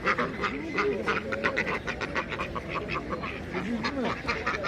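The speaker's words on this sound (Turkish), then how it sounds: "Burada da Pekin ördekleri var arkadaşlar." Many Pekin ducks quacking at once at an animal market, a dense, continuous chorus of nasal calls close by, with no pauses.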